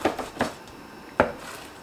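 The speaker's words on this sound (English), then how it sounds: "Now what I'm going to start doing here is like cutting these up into bite sizes." A knife chops fried, mustard-coated BBQ rib tips into bite-size pieces on a board, giving three sharp close cuts with short gaps between them and quiet kitchen room tone around them.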